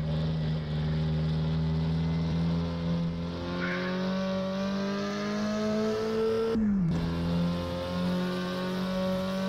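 A Porsche 356 coupé with its rear-mounted air-cooled VW four-cylinder drones steadily at high revs on a small circuit, pitch climbing slowly before a quick gear change drops it and the climb resumes.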